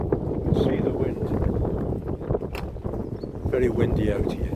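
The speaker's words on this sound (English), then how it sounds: "Very windy out here." Strong wind blows outdoors beside a car park and a bus, roaring low and steady against the microphone with rising and falling gusts. A voice talks briefly underneath.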